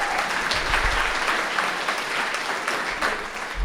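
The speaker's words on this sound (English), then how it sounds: "Give yourself a round of applause" A dense burst of clapping from a crowd, steady and loud throughout with no talking.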